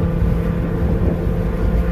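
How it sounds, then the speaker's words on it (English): A Toyota Supra engine revving at a car show drive, a steady loud low rumble that holds throughout without any talking. "That Supra sounds good."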